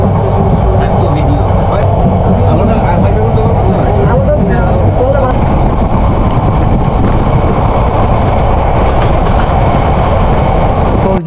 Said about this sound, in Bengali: আর মাঝখান দিয়ে ট্রেন চলেছে সমুদ্রগামী কক্সবাজারের উদ্দেশ্যে